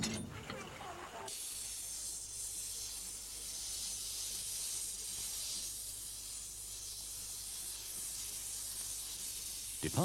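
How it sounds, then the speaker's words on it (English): A restored steam locomotive departing a station in Wales, releasing a sustained, broad hiss of steam after a brief opening sound, holding steady and fairly loud for the rest of the stretch. "Departing the station amidst clouds of steam"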